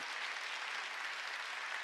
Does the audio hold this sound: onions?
no